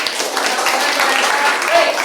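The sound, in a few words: students applauding in classroom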